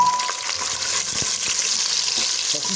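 Chopped ingredients for a tomato chili chutney fry in a pot, a loud continuous hiss and crackle of hot oil with occasional stirring knocks against the pot, no talking.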